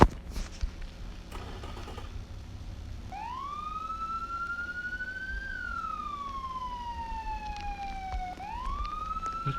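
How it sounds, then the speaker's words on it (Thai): A police car siren in the Roblox game Midnight Motel rises and falls in long sweeping tones, loud and steady after a brief noisy start with no one speaking. "เสียงรถตำรวจยังอยู่"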